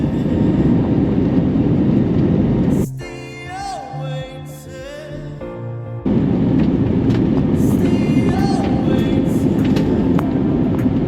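Air Cote d'Ivoire Airbus A320neo cabin during pushback: a steady loud cabin drone is interrupted midway by a tonal whine with chime-like tones before the rumble returns, with faint chimes again later.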